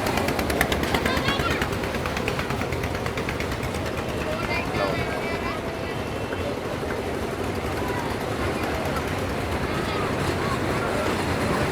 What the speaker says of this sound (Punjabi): ਟ੍ਰੇਨ ਲਓ ਜੀ ਤੇ ਇਹਦੇ ਵਿੱਚ ਆਪਾਂ ਬੈਠੇ ਹਾਂ